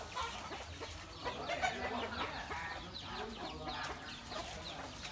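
Chickens cluck and squawk close by on a countryside farm in Soc Trang province, Vietnam, a busy flurry of overlapping calls with an occasional faint crow.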